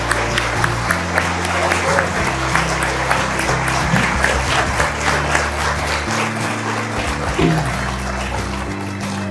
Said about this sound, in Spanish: Un aplauso fuerte para nuestro obispo